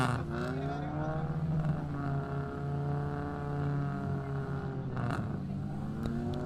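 Ford Laser and Mazda 1500cc race cars idling and revving together on a starting grid, a loud steady engine drone with rising and falling pitch throughout.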